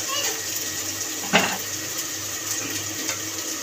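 Water poured over ground spice powders in a bowl (Kashmiri chilli, coriander, turmeric and cumin), a soft, steady trickle with one brief splash near the middle.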